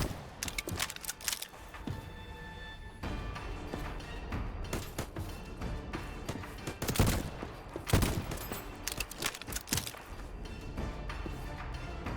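Gunfire rattles in repeated bursts against an armor plate in Void Train, sharp close impacts and volleys spread unevenly across the stretch with mechanical clatter between them.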